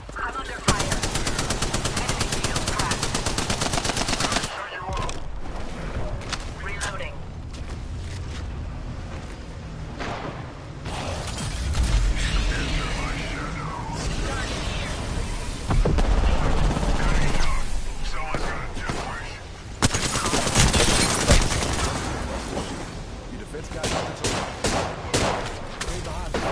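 Sustained automatic gunfire from an Apex Legends match, dense bursts and rapid volleys running almost continuously, loud and close, with brief pauses, mixed with game effects and occasional voice callouts.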